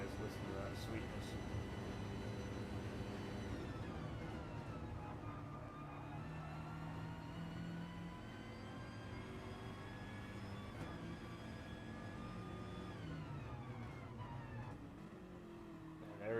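Onboard engine note of a BMW GT race car during a GTC-3 round, a continuous faint drone with gear-change pitch sweeps rising and falling across the run, heard alone.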